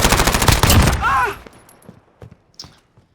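A rapid burst of MP5 gunfire in Call of Duty Modern Warfare, loud and close, followed by a mechanical whir and scattered faint clicks and footsteps.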